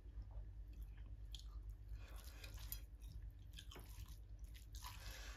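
Chewing of a home-style shrimp curry with garden vegetable stalks, soft wet mouth sounds and bites repeating steadily and close up, with no talking.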